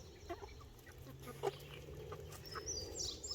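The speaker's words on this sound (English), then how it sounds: "still trying to figure out which ones are the roosters and which ones are the hens" Free-ranging chickens, a flock of roosters and hens including Buff Orpingtons and Sapphire Gems, make faint scattered clucks and short calls at a distance over soft outdoor noise.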